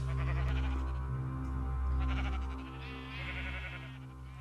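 Sheep in Minecraft, a pen holding several of every wool colour, bleating in overlapping repeated cries over a steady low game hum, close and fairly loud.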